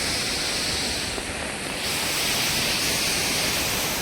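Water flows in a loud, constant, close rushing roar at an outdoor spot visited on a trip with colleagues, steady and without pauses.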